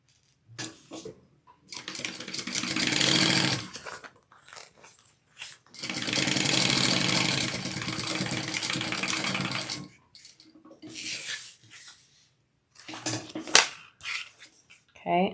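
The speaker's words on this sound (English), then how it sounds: "and I'm going to sew up the edge." A sewing machine stitches up the edge of fabric for a crossbody bag, running in two long loud bursts with short stop-start runs between and after, close up with no talk.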